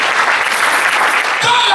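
A church congregation claps and cheers in a continuous, loud burst of applause that fills the space.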